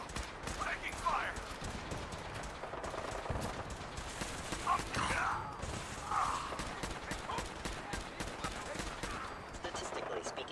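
Gunfire in the video game Fallout 4 comes in rapid, dense bursts and volleys over several seconds, close and loud, with scattered game voices mixed in.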